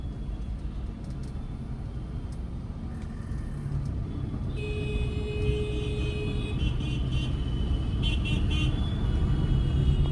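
A car moves through city traffic with a low, steady rumble of road and engine noise, while other vehicles pass and a brief horn-like tone sounds partway through.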